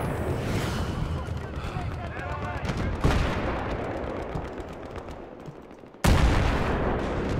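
Dense gunfire in a Battlefield 3 match near a tank, rapid crackling shots rolling on steadily with two sharp loud bursts, mixed with voices talking throughout.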